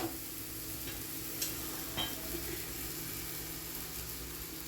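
Aloo palak paratha cooking in oil on a griddle gives a soft, steady sizzle with a low background hum and a couple of faint clicks, quiet and with no talking.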